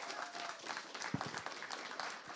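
An audience applauds a student group after their presentation, continuous clapping that sounds somewhat distant and soft, with a few sharper claps standing out.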